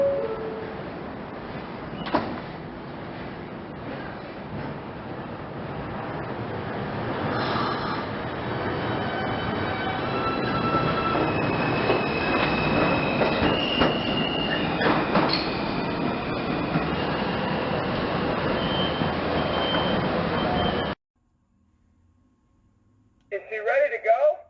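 A Coney Island–Stillwell Avenue bound F express train on the New York subway runs with a loud, steady rumble and rail clatter for about twenty seconds, a voice speaking over it, before it cuts out suddenly.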